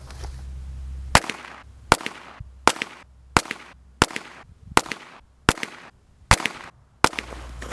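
Nine sharp gunshots from a Hi Standard Double Nine revolver ring out in a steady succession, each loud crack spaced under a second apart with a short decay, with no talking.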